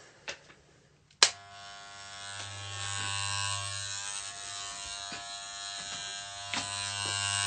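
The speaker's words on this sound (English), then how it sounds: "Shave." Electric shaver buzzing steadily close up after a sharp click as it switches on, running continuously with a few small bumps as it moves over the face, with no talking.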